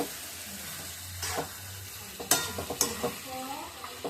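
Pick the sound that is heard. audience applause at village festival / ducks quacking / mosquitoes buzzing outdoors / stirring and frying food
stirring and frying food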